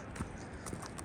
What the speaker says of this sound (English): cows coming through.